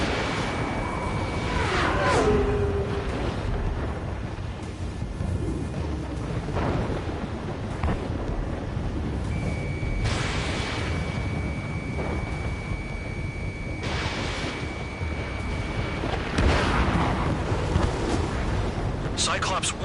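Missile explosions in the combat flight game Ace Combat 7, heavy rumbling booms rolling one after another under a constant dense roar of jet engine and battle noise, with a few sharper blasts standing out and a sustained tonal warning beep at times.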